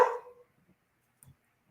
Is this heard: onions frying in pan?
no